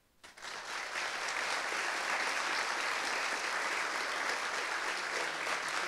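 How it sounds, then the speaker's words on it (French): Conference audience at a tech keynote applauding the event's sponsors: dense, sustained clapping that swells within the first half-second and holds steady and loud throughout. "on peut les applaudir un coup, ça peut être pas mal."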